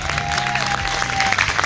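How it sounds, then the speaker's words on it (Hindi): An audience at a Khadi India event in Jhansi applauds, a dense, steady wash of clapping from a crowd with a faint tone and voices underneath. "एक बार हम अपनी चाहेंगे वंदना मैम के लिए जोरदार तालियां"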